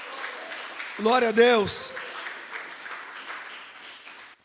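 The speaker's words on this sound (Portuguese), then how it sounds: "Vamos aplaudir bem forte ao nosso Deus." A church congregation applauds in praise during a worship service, a soft, diffuse patter of clapping running underneath as someone briefly speaks over it near the start.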